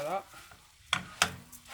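Vegetables cooking in a pot for risotto, with a brief voice at the start followed by two sharp scrapes and knocks of a utensil stirring against the pot and a faint simmer.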